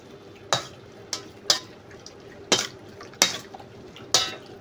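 A spoon clinks sharply against a bowl about six times in an uneven rhythm while chicken thigh marinade with oyster sauce is stirred; the knocks are close and bright over a faint wet background.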